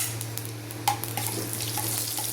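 Cumin seeds crackle and pop in hot oil, a steady sizzle with scattered sharp little bursts, close up.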